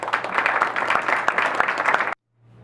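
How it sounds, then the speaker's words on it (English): An audience at a public policy gathering claps in a steady burst of applause, dense and close, before it cuts off abruptly into near silence. "Give a round of applause for everybody."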